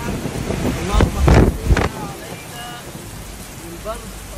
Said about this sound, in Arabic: سامعين صوت المطر؟